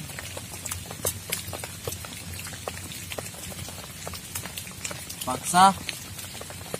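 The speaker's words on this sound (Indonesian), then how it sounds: "Dari kemarin sampai tetap juga hujan." Rain falling at a campsite during a rainy-season solo camping trip, scattered drips and patters tapping nearby over a soft background wash, with a person speaking briefly near the end.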